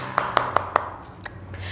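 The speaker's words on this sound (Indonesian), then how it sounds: "tepuk tangan dulu dong buat kalian" Four sharp, evenly spaced hand claps from a single person, close and distinct, followed by a couple of softer scattered claps in a quiet indoor storytelling session.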